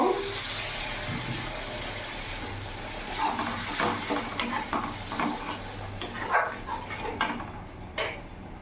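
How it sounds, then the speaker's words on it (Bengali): Fish curry masala for a tilapia dish sizzling in a pan as a little water is added and stirred in, with close scraping and clattering of the spoon over continuous frying hiss and a dog barking faintly. "মশলাটা লেগে না যায় তার জন্য আমি একটু জল অ্যাড করব"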